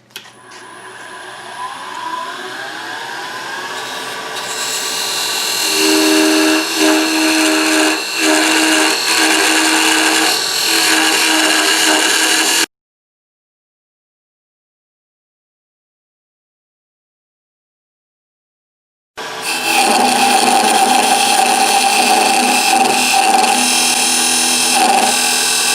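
A wood lathe turns a gavel, giving a steady, loud whirring hum with a tool scraping against the spinning wood. It cuts out to silence partway through, then starts up again just as loud.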